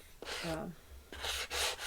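Several rough scraping strokes of sanding back and forth, close and fairly loud, separated by brief pauses.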